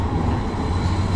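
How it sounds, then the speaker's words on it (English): A tram rolls past on a street in Schwerin, Germany, a steady close low rumble with rail hum lasting the whole short stretch and no voices. "Look at this tram."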